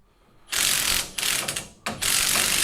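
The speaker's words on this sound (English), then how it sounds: "put the wrench on it now" A ratchet wrench clicks in loud, rasping bursts on a stuck bolt in a garage, with a couple of short pauses between pulls, close and without talk.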